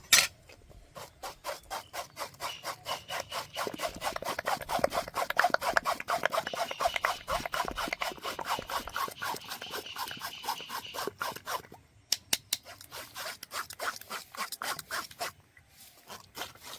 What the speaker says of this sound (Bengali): ভালো করে ছাঁকনির সাহায্যে ছেঁকে নিয়েছি।